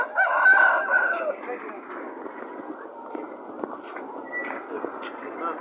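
A rooster crows once loudly at the start, followed by a busy background of murmuring voices and faint clucking at a poultry market in Erzin, Hatay.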